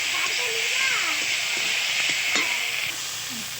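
Potatoes and figs fry with spices in a pan, giving a continuous bright sizzle and hiss with occasional stirring scrapes, while someone talks over the cooking.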